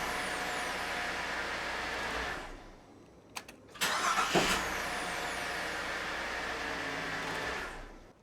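A Holden VZ Commodore with a newly replaced starter motor cranks briefly and fires, settling into a steady idle, goes quiet for a moment, then cranks and catches again with a louder rev before idling.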